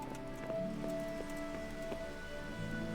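Steady rain falls across an outdoor medieval scene in the video game Kingdom Come: Deliverance, a constant close hiss of drops with soft patter, alongside low game ambience and faint tonal music.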